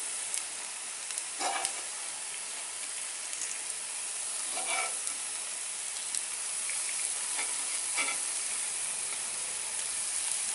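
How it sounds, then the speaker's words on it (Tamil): Sweet samai rice kuzhi paniyaram sizzles steadily in a pan on low heat, a continuous close frying hiss with occasional faint crackles and stirring clicks, no talking. "நல்லா 2 பக்கமும் குழிப்பணியாரம் சவந்து வரட்டும்."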